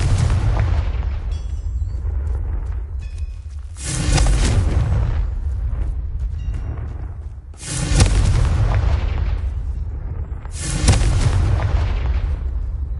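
Confringo explosive spell blasts from the Hogwarts Legacy video game, three loud booming bursts spaced a few seconds apart over a steady background rumble of game sound.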